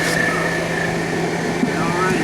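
RV rooftop air conditioner running after being cleaned, giving a steady, close mechanical hum and whir that holds without a break.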